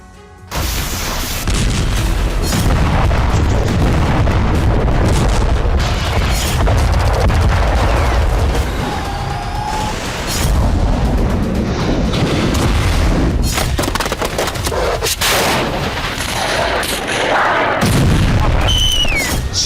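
Loud, continuous barrage of explosions and booming blasts from non-stop bombing in Syria, dense rumbling detonations and gunfire-like cracks filling the whole stretch with almost no pause.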